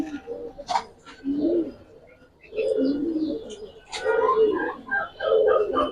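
Full silver Giribaz pigeons for sale, moulting, give repeated soft coos and chirps at close range, mixed with a voice speaking between the calls.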